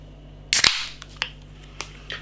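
A can of Monkish Brewing's Cats To Chase DDH double IPA cracks open with a sharp, loud pop and hiss, followed by a few faint clicks and ticks.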